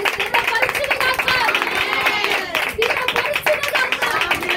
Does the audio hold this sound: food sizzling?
no